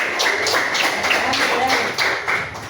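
Schoolchildren in a classroom clap hands together in a quick, steady rhythm of sharp, close slaps that fill the whole stretch, with some voices mixed in.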